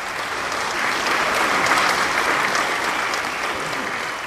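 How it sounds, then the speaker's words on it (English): Warm, dense applause from an awards-show audience rises steadily and holds as a continuous wash of clapping for several seconds, loud and full, with no talking over it. "she's walking off stage to warm applause"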